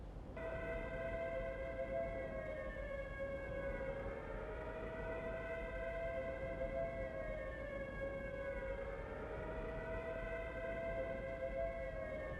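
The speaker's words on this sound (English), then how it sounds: "Have the chaps ready to move as soon as we hear those air raid sirens." Air raid sirens wail in the Prisoner of War video game, several overlapping steady tones slowly rising and falling in pitch, continuous and distant over a low background rumble.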